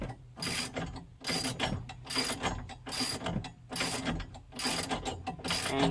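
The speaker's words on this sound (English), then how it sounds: "And torque it down till the bracket gets snug." A ratcheting wrench tightens a nut on the racing harness bracket of a G35, giving loud, close clicking bursts in a steady back-and-forth rhythm, about seven strokes with brief pauses between them.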